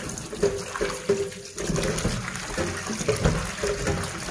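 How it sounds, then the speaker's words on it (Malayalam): Meat for sausage rinsed under a running kitchen tap, a steady gush of water with splashy handling sounds, close and moderately loud, with no talking. "ഇനി നമുക്ക് നല്ല വൃത്തിക്ക് ഇതൊന്ന് വാഷ് ചെയ്തെടുക്കണേ."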